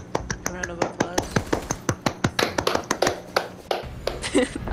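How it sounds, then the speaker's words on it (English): Hands clap in a quick run of sharp, evenly spaced claps, loud and close, as a round of applause during an online Rainbow Six game chat, with voices talking over it. "Round of applause."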